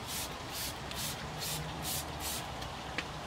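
A water spray bottle squirts in a quick series of about eight short, sharp hissing bursts, evenly spaced and fairly close, with a low background rumble and no talking.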